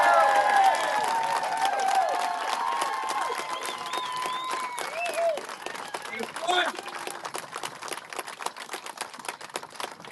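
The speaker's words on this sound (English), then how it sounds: "give a big applause for John, his team, and his family" Crowd at a rowing race finish line clapping and cheering for John and his team after an Atlantic crossing, a broad applause wash that fades gradually while a voice and some tonal sounds carry over it early on.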